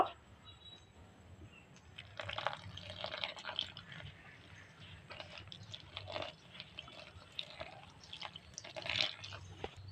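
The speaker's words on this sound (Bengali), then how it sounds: "এবার আমি অল্প অল্প জল দিয়ে ময়দাটা মেখে নেব" Flour dough is kneaded by hand while small amounts of water are added, for bhature, producing wet squishing and sticky slapping sounds that come and go close up, soft and without talking.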